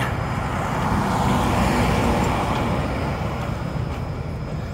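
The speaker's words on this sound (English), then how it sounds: "Due to all the traffic." Busy downtown street traffic rumbles continuously close by, a steady dense roar of passing vehicles with no pauses, heard during a fall walk through the city.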